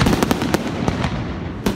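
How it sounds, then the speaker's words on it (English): Fireworks burst at night over a Chicago neighborhood, a rapid series of loud, sharp bangs and crackles with an echoing boom near the end. "the sky is consumed by fireworks"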